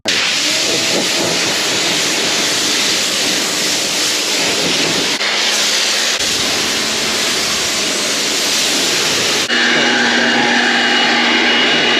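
A pressure washer hisses steadily and loudly throughout while a car is being washed at home, its tone shifting as the spray changes, with no talk.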